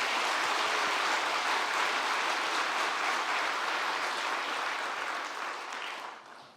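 A church congregation claps steadily, a dense wash of applause that holds for several seconds and then tapers off toward the end.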